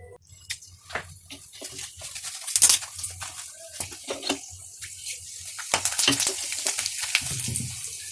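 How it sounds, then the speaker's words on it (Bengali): Whole garam masala, bay leaf and cumin seeds sizzle in about three tablespoons of hot oil in a Bengali kitchen, a steady crackling spatter with sharper pops as each spice goes in, close and fairly loud. "এর মধ্যে আমি একে একে ফোড়ন দেব"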